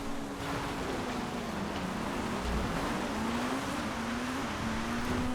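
Rallycross race cars in GTA FiveM drone steadily with a sustained engine tone that slowly rises and falls. The sound is moderately distant and continuous, with no talking.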